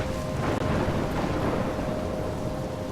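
Thunderstorm with heavy rain in the video game Life is Strange, a steady dense downpour with a low rumble of thunder rolling underneath, loud and continuous, with no voices.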